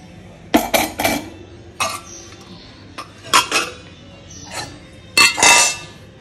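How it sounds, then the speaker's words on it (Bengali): A pot of lentils (dal) being washed in a kitchen gives off sharp metallic clinks and clatters in scattered bursts, close and fairly loud, with quiet gaps between them and no talking. "চল ডালটা ধুয়ে সেদ্ধ বসিয়ে দিই, তারপর চালটা ধুয়ে নেবো।"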